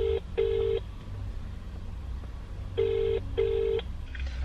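Telephone ringback tone on a call to a car wrap shop: two pairs of short electronic rings, a pause between the pairs, over a low steady hum and faint background noise, with no voices.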